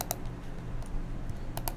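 Several sharp computer keystrokes click in quick bursts, a few isolated taps with a pair near the end, over a low background hum.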